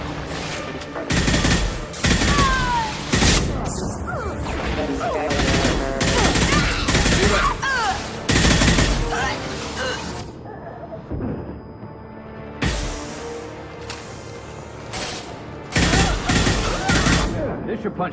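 Rapid bursts of gunfire from the Mass Effect 2 video game, loud and near, in dense overlapping volleys with short gaps, mixed with game voices and effects.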